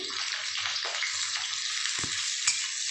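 Long-sliced medium onions dropped into hot oil give a dense, even hiss close by, with a couple of soft knocks from the pan; no voices.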